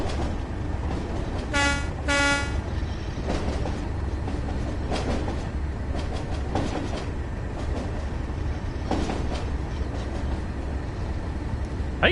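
Class 37 diesel locomotive in the Train Sim World simulator, a loud steady engine rumble running throughout, with two short horn toots near the start and faint rail clatter.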